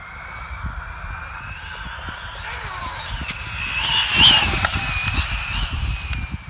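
A Traxxas Slash 4x4 RC car on a 6s setup for a speed run, with an electric motor whine that rises sharply in pitch and loudness as it accelerates at full throttle, alone with no talking.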